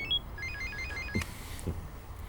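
A mobile phone rings with a bright, stepping electronic melody for about a second, then stops, leaving a quiet room with a couple of soft knocks.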